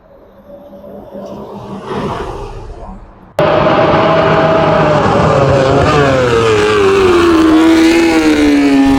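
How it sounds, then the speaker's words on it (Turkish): Motorcycle engine starting abruptly and running loud and close as the motorcycle rides backwards, with a steady drone whose pitch shifts slightly, following a few seconds of softer background noise and voices. "Motor geri geri gidiyor."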